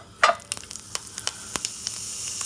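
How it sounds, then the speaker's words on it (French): A 100-gram ground beef steak sizzles in a pot, a loud initial hiss as it hits the heat, then steady frying crackle with sharp pops and stirring taps. "dans un faitout ou une casserole qu'on peut pas rayer en fouettant, on va faire griller un steak"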